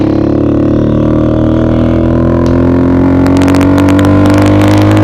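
A motorcycle engine runs loud and close, holding a steady, droning rev throughout, with a slight rise in pitch and some faint clicking toward the end.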